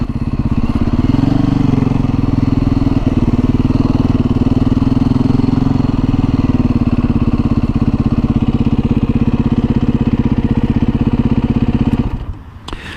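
A Beta 500 motorcycle engine, running out of fuel, chugs loud and close with a steady thumping idle before sputtering and cutting out near the end.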